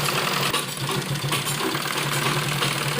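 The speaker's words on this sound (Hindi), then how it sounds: "तो इस तरह किनारे किनारे पर हमें पूरी सिलाई लगानी है ताकि हमारी बेल्ट अच्छी तरह से दब जाए।" A sewing machine runs steadily, stitching along the edge of a salwar waistband, a close, continuous rapid whirr and clatter with no pauses.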